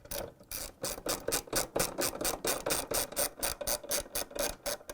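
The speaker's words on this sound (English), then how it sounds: "And now we're going to put 3 bolts to secure the transmission. 1/2 inch socket wrench." A half-inch socket wrench ratcheting on transmission bolts of a Whirlpool washer, a close, brisk run of evenly spaced clicks sounding alone.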